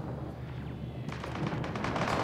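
In online multiplayer combat in the video game Mass Effect Andromeda, a rapid rattling burst of gunfire breaks out after a second of rumbling background and then keeps crackling densely to the end.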